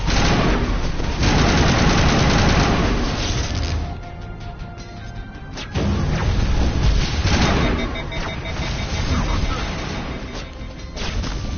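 Dense combat gunfire in Mass Effect Legendary Edition, loud rapid bursts and crashing impacts that thin out briefly midway before resuming, noisy and continuous throughout.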